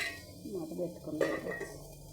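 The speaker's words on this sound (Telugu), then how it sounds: "మూత పెట్టుకున్నాం" A lid set down on a cooking pot of home-style lentil rasam with potato, one clear metallic clunk with a brief ring amid kitchen clatter and a voice talking nearby.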